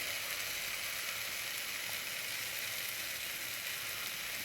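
Onions, carrots and beans sauté in a pan for wheat vegetable noodles, giving a faint, steady sizzle and soft hiss that runs unbroken without any voices.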